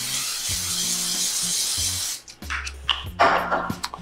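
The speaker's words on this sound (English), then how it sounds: "just gonna spray them a little more over the top" A close, steady hiss of cooking oil sprayed over polenta fries lasts about two seconds, followed by soft handling clatter and light knocks.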